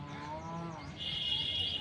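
HF cows at the Erragadda cattle market give a single drawn-out moo, fairly close, followed by a brighter steady hiss of background noise, with no talk.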